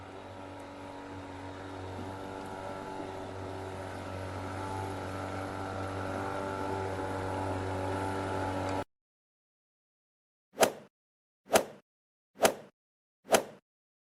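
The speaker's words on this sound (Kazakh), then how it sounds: "Бұл қызғылт сары катер." Cartoon motorboat engine, a steady droning hum running loud and continuous for about nine seconds before cutting off abruptly, followed by four short sharp bursts spaced evenly in the silence.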